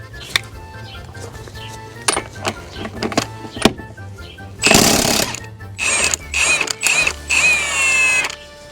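An impact gun removing wheel lug nuts, several loud rattling bursts of hammering with brief whirs between them, near and sharp, with small clinks in the gaps.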